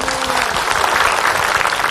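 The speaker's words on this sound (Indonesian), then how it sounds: "Tepuk tangan." An audience at a televised Islamic religious talk show bursts into loud, continuous applause, a close, dense wall of clapping with no break throughout.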